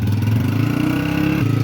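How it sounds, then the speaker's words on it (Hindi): A motorbike engine running steadily after being started, a loud close idle with a low throbbing rhythm and a slight dip in pitch near the end, no voices over it. "बाइक स्टार्ट कर ली है"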